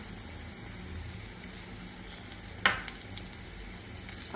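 A spice paste with turmeric and Kashmiri chilli sautéing for an Idukki-style fish curry, sizzling steadily up close, broken by one sharp clatter partway through.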